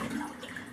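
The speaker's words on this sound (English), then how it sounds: "I'm going to go ahead and strain this in a regular kitchen strainer." Water draining from soaked potato strips poured into a regular kitchen strainer in a home kitchen, a brief, soft splashing trickle with no talk.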